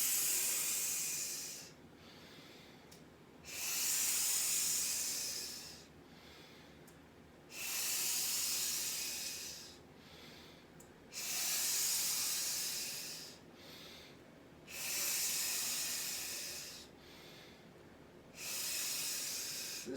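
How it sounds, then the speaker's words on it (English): Slow qigong breathing exercise: six long, steady hissing exhales forced through clenched teeth like steam escaping a pipe, each lasting about one to two seconds and separated by short quiet pauses, close and fairly loud, with no talking. "It's going to be like air coming off, or steam coming off a steam pipe with your teeth together"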